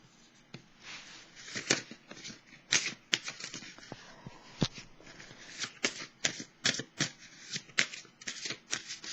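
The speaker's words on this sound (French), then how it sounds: "Je vais piger une carte de l'oracle de l'âme intuitive." Tarot and oracle cards being shuffled and drawn by hand, a steady run of crisp riffling flutters and soft slaps that repeats through the whole stretch, close and fairly loud, with no voice over it.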